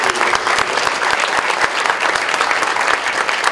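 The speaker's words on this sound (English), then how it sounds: "Let's give all of them a round of applause" Audience applause for competitors at a Poetry Out Loud recitation contest, a loud, continuous burst of many hands clapping with distinct individual claps standing out near the listener, no voices.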